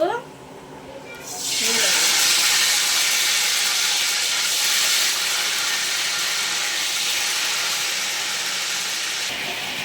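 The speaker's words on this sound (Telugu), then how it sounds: "నూనె అయితే కాగిందండి వంకాయలు అయితే వేస్తున్నాం ఫస్ట్" Pieces of eggplant hit hot oil and burst into a loud, close sizzle that starts abruptly after a brief voice, then holds as a steady, bright hiss that slowly eases.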